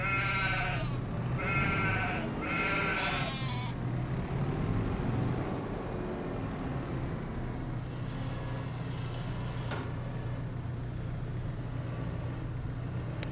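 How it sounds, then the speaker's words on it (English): Sheep bleat in the Farming Simulator 25 video game, three loud close calls in quick succession at the start, then a steady low engine hum continues alone. "There's nothing I can do about the crazy sheep"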